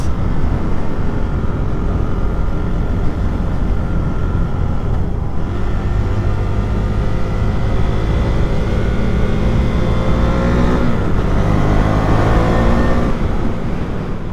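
A KTM 390 Duke motorcycle rolls slowly in first gear at the Château & Parc d'Olhain, its engine a loud, steady, close drone throughout with a brief dip midway and a rising pitch near the end.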